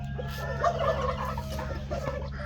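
Decorative chickens and pheasants of various species cluck and call in a pen, a busy chorus of bird calls over a low steady hum.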